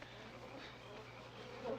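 Bees drone around their hives in a continuous low buzzing hum, faint and steady, with a slight swell near the end and no talk.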